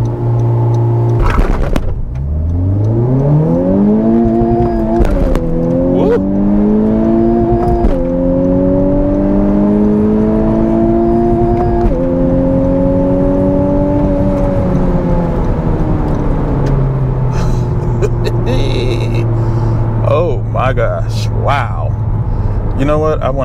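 A 2021 Honda Civic Type R hot hatch launches hard and accelerates, its engine note climbing steadily through the gears with loud, rising harmonics, then settling into a lower drone; a voice briefly talks over it near the start.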